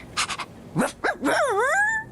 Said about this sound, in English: Now, my dog barked.